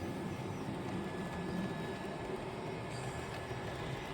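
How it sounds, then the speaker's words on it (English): At Moorland station, a train rolls through as a low, steady rumble heard from some distance, fairly faint and even throughout, with no talking. "as we see this train go through"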